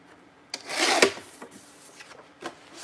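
Paper being trimmed for a traveler's notebook, a close scraping, rubbing stroke followed by a few softer brushing and tapping sounds, quiet and without talk.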